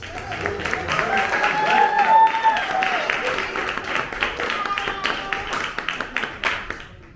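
Crowd applause and cheering for a poet at a live spoken-word performance, a steady wash of clapping with voices calling out over it, fading toward the end.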